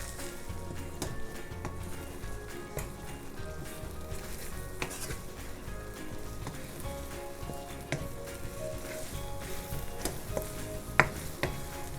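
Eggs for scrambled eggs with tomato sizzle and fry in a wok, a steady soft crackle with occasional stirring scrapes and a sharp utensil tap near the end, no talking.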